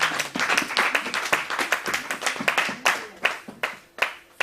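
A church congregation claps and applauds in praise, with rapid, uneven hand claps that surge and then thin out toward the end, and voices mixed into the clapping.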